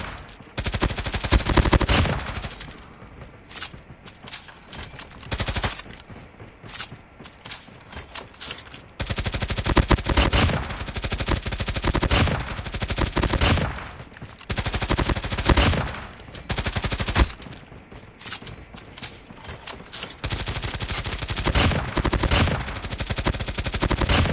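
Video game gunfire from a Hades machine gun fitted with the Heartseeker attachment, fired in repeated long automatic bursts separated by short pauses, loud and close.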